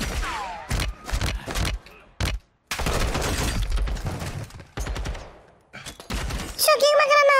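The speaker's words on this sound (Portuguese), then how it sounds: "Caramba, eu tô estourando os caras na bala." Gunfire in the 2022 Call of Duty Modern Warfare 2 campaign: sharp bursts and volleys of shots crack between stretches of talk, loud and close.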